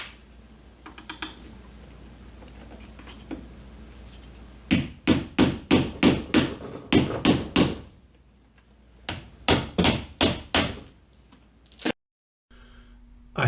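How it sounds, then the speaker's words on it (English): Sharp hammer blows on furniture trim come in two quick bursts of about eight strikes each, loud and close, with quieter taps and scraping before them. "I am going to try to start taking off this trim"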